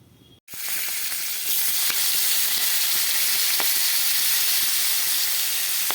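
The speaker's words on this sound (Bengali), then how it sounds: "এখানে আমি মাছের মাথাগুলো ভেজে নিচ্ছি" Fish heads frying in hot oil in a pan burst into a loud, dense sizzle that starts abruptly and holds steady, with scattered pops and crackles throughout and no voices.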